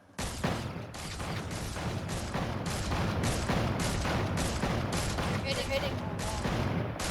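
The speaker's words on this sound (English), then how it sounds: "the next one is the Thermal Scoped Assault Rifle" Thermal Scoped Assault Rifle firing in the Fortnite video game, a rapid, steady burst of loud close gunshots in an even rhythm, sustained for several seconds.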